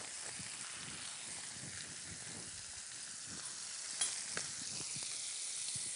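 Chicken seared in a hot pan gives a steady, close sizzle and hiss that runs throughout, with a few small pops and stirring clicks.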